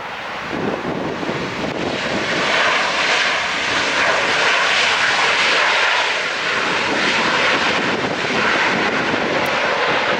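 An ANA Cargo Airbus A330 jet lands at LAX, a loud, sustained airliner engine roar with broadband wind-like rushing that swells and stays steady over several seconds.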